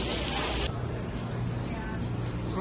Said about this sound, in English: Sizzle, sizzle, sizzle, sizzle, sizzle, sizzle.